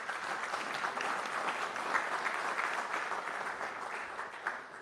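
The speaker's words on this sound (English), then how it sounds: "members of the panel deserve a round of applause" An audience at a conference panel on digitalisation and youth in elections applauds steadily, a dense, even clapping that holds for several seconds at moderate distance.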